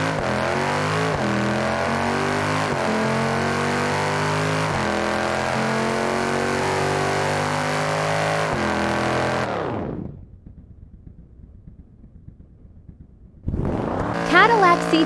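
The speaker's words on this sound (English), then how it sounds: "BMW M5 versus Audi RS6." A BMW M5 and an Audi RS6 accelerate hard in a drag race, their engines roaring loud and close through several rising gear-change sweeps before cutting off abruptly. Near-silence follows, then another burst of engine noise.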